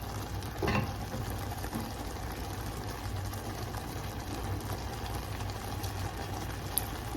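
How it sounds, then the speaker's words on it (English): Shiitake mushroom and melted cheese datshi, a Bhutanese dish, is stirred in a clay pot over heat, giving a steady close sizzle and soft scraping bubbles with no talking. "The cheese has melted. Just give a nice stir."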